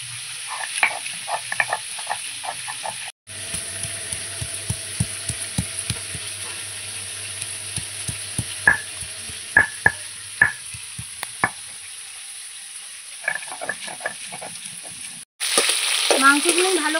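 Chicken pieces fry in a pan with a steady bright sizzle while a spatula scrapes and taps repeatedly in an uneven rhythm, with a couple of brief cuts in the sound.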